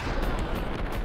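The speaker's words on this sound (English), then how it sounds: "It's a grenade." A grenade explodes in the Max Payne video game as a dense, sustained roaring blast that fills about a second, with heavy low-end rumble and no talk over it.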